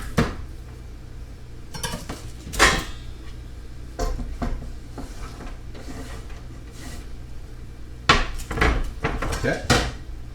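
Chopped celery thrown into a pot on top of onions, several clanks and knocks of pot and utensils spread across the clip, with a gentle sizzle between them.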